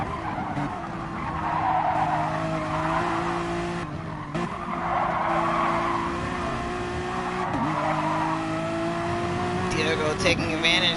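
A Honda GT3 race car in a racing video game at Suzuka brakes hard with sustained tire squeal and skidding over a loud engine drone, continuing for several seconds with shifts in pitch, while a commentator talks over it.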